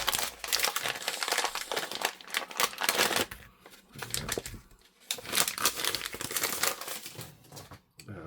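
A brown paper bag holding Dalek model motor-housing parts is opened by hand, giving close, busy crinkling and rustling in uneven bursts with brief pauses.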